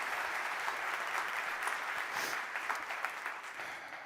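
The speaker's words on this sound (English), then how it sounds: "Everybody, a round of applause for Ajit." Applause for a keynote speaker at Pure//Accelerate 2023 sounds as a steady wash of clapping from a large conference audience, slightly distant and tapering toward the end.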